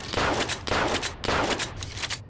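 A gun in the video game Zed Zone fires rapidly, loud close bursts in a quick repeating rhythm with a heavy kick, about four blasts in quick succession and no talking.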